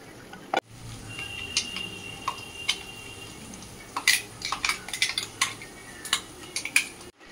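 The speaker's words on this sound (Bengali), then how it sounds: "এবার ভাজা কাঁকড়াটা যেখানে আলু পেঁয়াজ ভাজছিলাম ওখানে দিয়ে দেবো।" Fried crab being stirred with a metal spoon into a pan of fried potatoes and onions, giving scattered clinks and scrapes against the pan, moderately close, with no talk.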